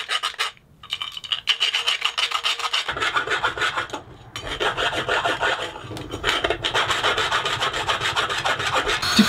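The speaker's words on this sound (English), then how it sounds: "Now I need to deburr the inside. I'm just gonna use a round file" Close rasping of a round file scraping back and forth inside a metal wind chime tube, deburring it in quick repeated strokes that continue steadily without talk.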